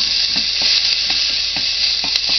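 Spaghetti squash scrambled eggs sizzle loudly as they brown in a pan, a dense, close hiss of frying with soft, regular stirring taps throughout.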